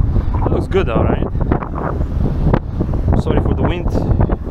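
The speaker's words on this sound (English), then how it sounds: "Sorry for the wind." Heavy wind buffets the microphone in a steady low rumble, with people talking over it throughout.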